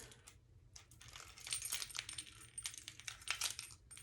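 Metal keys and small plastic key tags handled and jingling close by in a quiet room, a series of light clinks and rattles that grow busier partway through.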